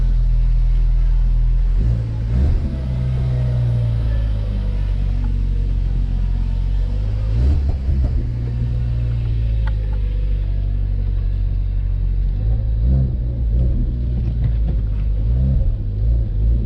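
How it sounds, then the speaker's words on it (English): A Ford Focus ST on a test drive after a charge pipe kit install, its engine a steady low rumble with gentle revving swells and road noise throughout, heard from inside the car. "Going for a test drive."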